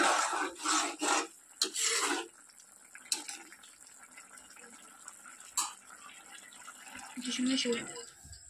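A spatula scrapes and stirs rui fish and cauliflower curry with cumin powder and garam masala in a pan, giving several close rasping strokes in the first two seconds and then intermittent softer scrapes.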